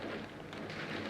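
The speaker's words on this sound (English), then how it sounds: "you can hear the rain outside now" Steady rain falling outside a workshop during guitar fret work, a dense, even hiss with soft patter that fills the whole moment with no voices.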